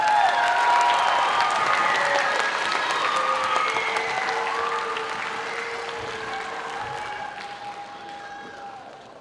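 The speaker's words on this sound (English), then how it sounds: "Can you please give a round of applause to Naya, please?" An audience applauds at a school winter concert, a full burst of dense clapping with a few cheers that slowly tapers off over about nine seconds.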